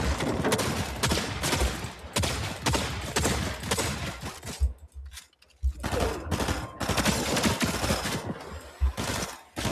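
Rapid automatic gunfire from the Fortnite video game in Zero Build mode rattles almost continuously in dense bursts, broken by one short pause before the shooting resumes loud and close.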